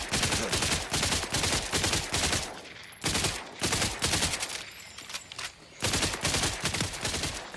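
Rapid submachine-gun fire in a shooter video game comes in several sharp sustained bursts, each a dense rattle of shots, separated by short pauses.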